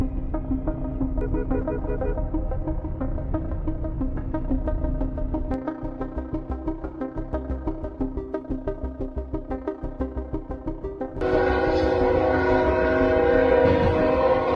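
Train rumbling along the tracks toward a car stalled on the crossing, a loud steady drone with a rhythmic clatter, then a blaring horn joins near the end.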